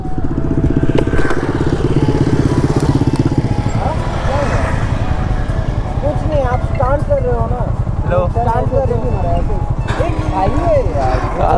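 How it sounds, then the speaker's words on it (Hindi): Hero Xpulse 200 motorcycle fitted with a full-system AR exhaust runs loud and close with a steady, throbbing engine note throughout. Voices speak over it. "इसके बाइक पे एक व्हीली मार के देखते हैं कैसे होता है व्हीली।"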